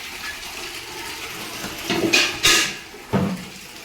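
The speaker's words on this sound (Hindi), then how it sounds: "ये नल है, अपने नल चालू हो रहा है, पानी भरा जा रहा है।" Water from a tap pours and splashes into a container, a steady low rush that swells in two louder surges near the end.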